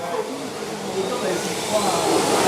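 Small electric cooling fan on a radio-controlled drift car running steadily, a broadband whooshing hum that builds slightly in loudness, heard close up with no talk.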